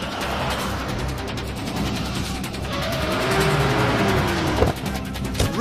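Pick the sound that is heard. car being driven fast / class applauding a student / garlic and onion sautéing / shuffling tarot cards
car being driven fast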